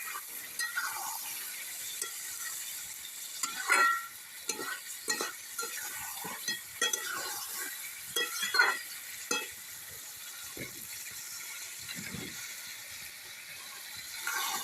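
Chicken biryani masala stir-fried in a pot, with a steady sizzle under repeated scraping and clattering strokes of a spoon against the pot, close and moderately loud throughout, no voices.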